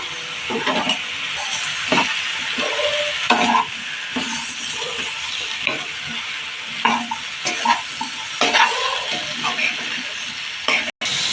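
Mushroom gravy sizzles steadily in a pan while a spoon stirs and scrapes through it, making intermittent clinks and scraping bursts over a constant frying hiss, fairly close.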